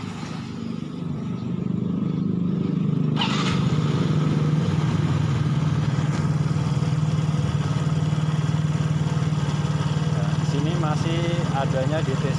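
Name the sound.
Yamaha X-Ride scooter engine running at high idle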